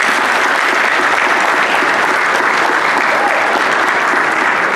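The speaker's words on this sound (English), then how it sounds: "Can y'all just give them a round of applause, please?" A big audience breaks into a dense, steady round of applause for a group of young men, loud and unbroken, with no voices rising above it.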